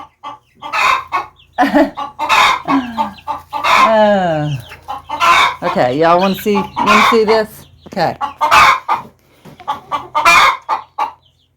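Hen clucking loudly and repeatedly after laying an egg, a close rhythmic run of sharp squawking calls with rising drawn-out cackles between them, mixed with someone talking nearby.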